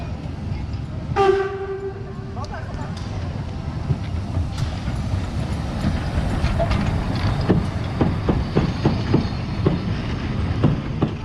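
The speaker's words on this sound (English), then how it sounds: "as soon as we arrived, also our train arrived" A narrow gauge train at Zittau sounds its horn once, then rumbles and clatters into the station with rhythmic clicking of wheels over rail joints, close by and fairly loud.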